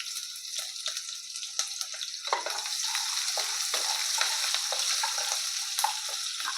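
Nigella seeds, onion and chopped green chili frying in oil in a kadai, a bright steady hiss of sizzling oil with a few soft stirring scrapes, close and alone without voices.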